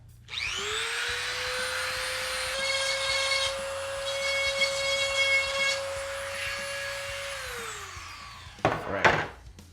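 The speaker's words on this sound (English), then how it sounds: "We're going to clean them up, Dremel." A Dremel rotary tool whines at a steady high pitch, spinning up, then grinding and cleaning dirty fallow deer antler burrs for about eight seconds before winding down. It sounds close and loud, and a few handling knocks follow.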